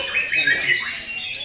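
White-rumped shamas (Murai Batu) at a singing contest at the Cikeas gantangan trade shrill, rapid chirps and whistled phrases, with a voice in the background.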